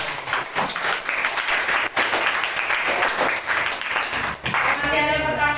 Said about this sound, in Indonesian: tepuk aplaus untuk tepuk tangan untuk kita semua